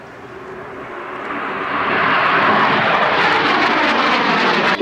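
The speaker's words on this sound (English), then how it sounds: "That's the Battle of Britain Memorial Flight Spitfire" Battle of Britain Memorial Flight Spitfire flying at an air show, its piston engine roar swelling from moderate to loud as it approaches, then holding a strong, steady drone.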